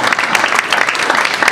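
Dense, loud applause from a conference audience, a continuous close wash of many hands clapping with no gaps across the short stretch.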